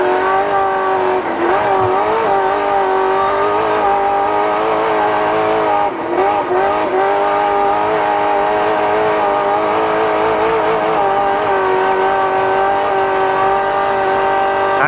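A trophy truck's racing engine heard from inside the cab during a spec race, loud and sustained with a steady high drone and brief dips as revs shift, filling the whole stretch with no talk.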